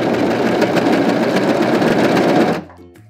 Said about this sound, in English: we're gonna run it through the cover stitch machine